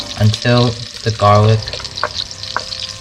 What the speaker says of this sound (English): Our butter is melted, so I'm going to now add in garlic and onions. And then we're just going to fry this